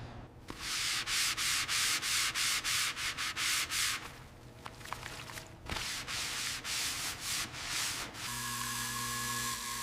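Trim on a 1930 Ford Model A being rubbed and polished, close and loud: rapid rhythmic back-and-forth scrubbing strokes in bursts, a brief pause, then steadier rubbing with a faint tonal hum underneath.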